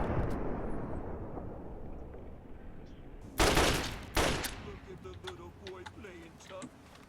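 Two sharp bursts of gunfire from the Fallout 3 video game, a short volley a couple of seconds apart, loud against low ambient game noise and under quiet talk.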